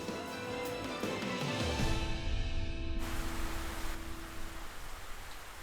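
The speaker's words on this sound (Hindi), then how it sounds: "बारिश हो रही है" Rain falls steadily as a constant hiss of many drops, close and even, with a soft low wash beneath and no voices.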